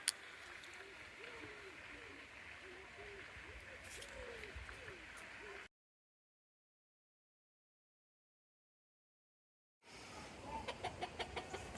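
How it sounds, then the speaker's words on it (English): Chickens cluck softly near a coop in a countryside garden at Arley Arboretum in Worcestershire, a low steady murmur of hens that cuts out briefly before faint sounds return. "can I hear a chicken?"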